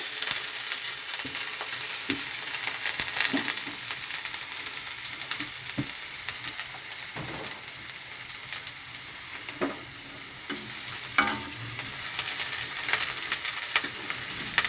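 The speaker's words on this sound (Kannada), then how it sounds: "ಈರುಳ್ಳಿ ಸ್ವಲ್ಪ ಎಣ್ಣೆಯಲ್ಲಿ ಫ್ರೈ ಆಗಬೇಕು" Onion frying in a little oil for a moong dal sambar, a soft steady sizzle with faint scattered crackles and occasional clinks, fairly quiet and close with no talk.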